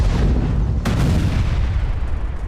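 A deep, heavy boom of a Russian weapons depot exploding after a strike erupts amid a continuous low roar, followed by rumbling that lingers; loud and distant-sounding, no voices.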